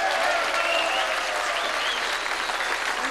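An audience at a Frankenmuth summer music fest honoring a musician's 75th birthday gives Theresa Herzog a round of applause, a steady wash of clapping that carries evenly for about three seconds.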